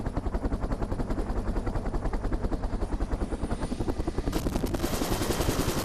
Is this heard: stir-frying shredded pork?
no